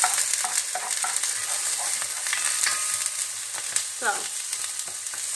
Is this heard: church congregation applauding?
no